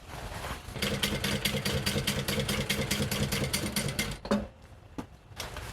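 A sewing machine stitching a seam on a custom Mandalorian flak vest runs in a fast, even mechanical chatter for about four seconds, then stops with a couple of clunks.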